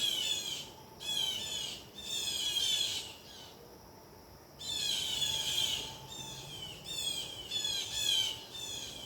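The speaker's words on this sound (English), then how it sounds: "something pissed off the crows." Crows squawk harshly in repeated loud bursts, several calls overlapping, with brief pauses between rounds.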